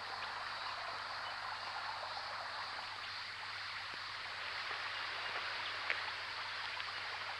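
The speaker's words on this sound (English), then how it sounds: "The waterfall." Waterfall near a cave, a steady broadband rush of falling water heard at moderate distance, constant and unbroken without voices.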